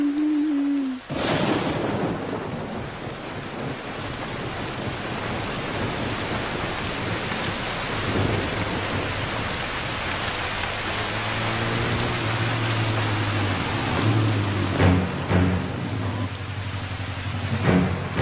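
Steady heavy rain pours for a long stretch, with low rumbles of thunder rolling beneath it and a few sharper thuds near the end.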